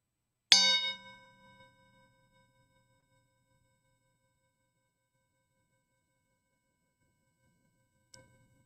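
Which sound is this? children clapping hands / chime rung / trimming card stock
chime rung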